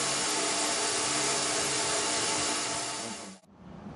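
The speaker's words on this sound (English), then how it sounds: "After he's put them in the ultrasonic machine, we put them in there for 180 seconds." Ultrasonic cleaning machine heating and cleaning fuel injectors, a steady broad hiss and hum that runs continuously, then drops away near the end.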